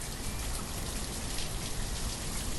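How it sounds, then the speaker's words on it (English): Rain in the city-building game Banished comes down as a steady, dense patter of drops, a continuous hissing wash at even loudness with no talking. "Ugh, now it's raining."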